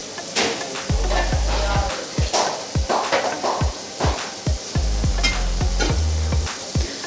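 Green chillies sizzling in hot tempering oil, a loud continuous fry hiss broken by rhythmic scraping stirs and clinks of a ladle against the pan, close up with no speech.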